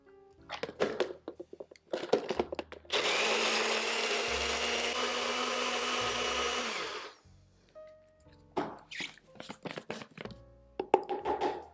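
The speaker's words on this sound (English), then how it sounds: "Now we're just going to blend this up until it's super, super creamy." A blender runs steadily for about four seconds, whirring a vinegar-based vegan ranch-style dressing until creamy, with kitchen clatter and tapping before and after.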